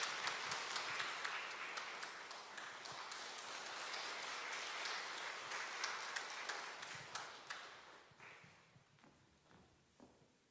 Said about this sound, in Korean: 우리 권사님에게 다시 한번 박수 내주시면 좋겠습니다.